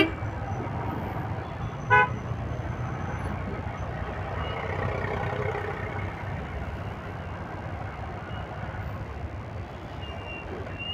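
Road traffic on a ride through a village area near Bengaluru, Karnataka: a steady hum of passing vehicles and engines with a short horn toot near the start, moderately distant, no talking.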